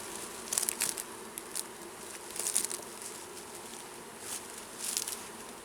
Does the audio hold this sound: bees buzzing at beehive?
yes